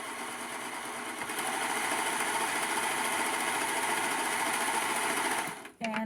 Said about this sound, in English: I will be using the serger, and I have to do this right now